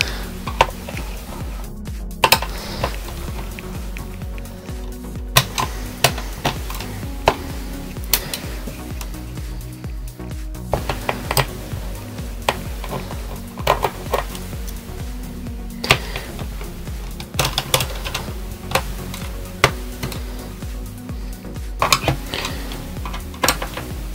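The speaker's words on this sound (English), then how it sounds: "let's start removing the screws now" Screws come out of the back cover of a Dell Inspiron N5010 laptop as light metallic clicks, ticks and clinks of a screwdriver recur irregularly throughout, close by, with no voices.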